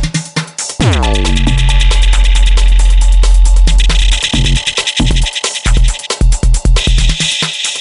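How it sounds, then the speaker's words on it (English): Loud electronic music with the dub echo effect of a Pioneer DJM-900 Nexus DJ mixer, sounds repeating and trailing off in rhythmic delays as the mix drops in and out. "Dub echo."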